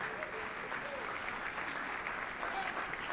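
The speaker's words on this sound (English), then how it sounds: "What a round of applause." At a Loyola University New Orleans School of Music concert, an audience applauds as a musician comes on stage, producing an even, continuous wash of clapping heard from a moderate distance.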